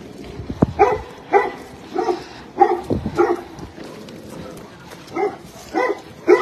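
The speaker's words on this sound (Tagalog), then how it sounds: "May mga naiwan ho dito na hayop, ano? Ayan. May mga aso pa." Dogs left behind at a lakeside house barking repeatedly in a steady series of sharp barks, fairly close, with faint background noise between barks.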